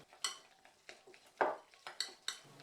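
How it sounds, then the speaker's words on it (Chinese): Minced pork filling seasoned with cooking wine and light soy sauce is stirred in one direction in a bowl, giving a handful of distinct scraping, clinking strokes at an uneven rhythm, close and fairly quiet. "之后呢，就开始把肉馅向一个方向搅拌。"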